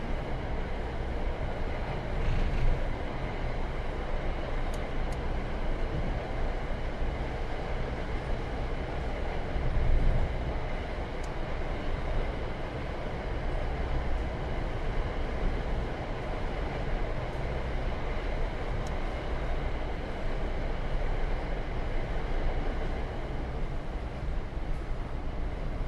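A heavy passenger train rolls along America's busiest railroad in Train Sim World 6, a continuous rumbling drone with rhythmic rail clicks and occasional squeals, steady and close throughout with no voices.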